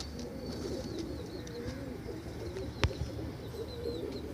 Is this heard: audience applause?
no